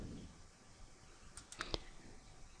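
Computer mouse double-clicked, with a quick pair of sharp close clicks, a brief earlier click, and quiet room hush around them.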